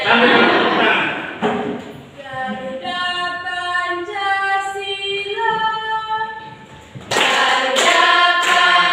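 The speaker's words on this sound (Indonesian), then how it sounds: "Sambil tepuk tangan." Students clap their hands in rhythm while singing together in a classroom lesson, the claps sharp at the start and end with sung voices carrying through the middle.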